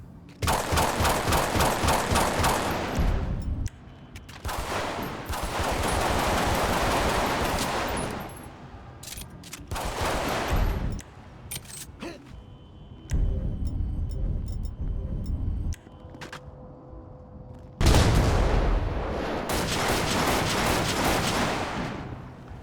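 Loud, realistic gunfire from a weapon sound mod in GTA V, with bursts of rapid automatic fire and single heavy shots. The blasts come in several long volleys separated by short pauses and echoing tails.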